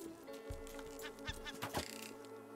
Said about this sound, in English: a seagull attacking my flowers